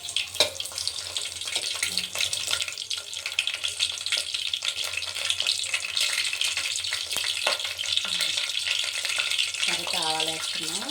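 Fenugreek seeds frying in hot oil for an Andhra-style pappu charu, a close, continuous sizzle with crackles and clinks, with faint water running and a brief tonal squeak near the end.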